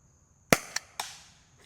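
Byrna Compact Launcher fired at a distant target: a sharp loud pop followed by two quicker, fainter cracks, each with a short decaying tail, against a quiet outdoor background.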